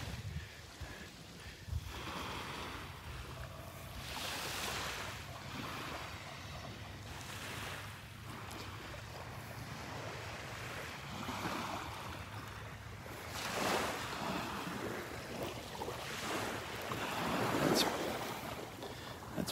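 Ocean waves rolling onto the beach at Delnor-Wiggins, a steady wash of surf with periodic louder breaking swells, mixed with gusting wind buffeting the microphone.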